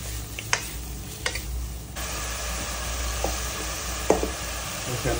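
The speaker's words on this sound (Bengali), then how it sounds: "জিরা পাউডার দিয়ে দিলাম, ধনিয়া পাউডার দিয়ে দিলাম। মশলাটাকে ভালো করে ভুনে" Red chili, cumin and coriander powder masala frying in a pan for a pomfret fish dish, sizzling steadily with a few clicks and scrapes of a stirring spoon, no voices.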